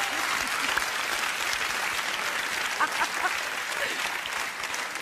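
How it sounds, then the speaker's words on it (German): Steady applause from an audience fills the whole stretch, a dense even clatter of many hands clapping without letting up. "Das finde ich einen gerechtfertigten Applaus."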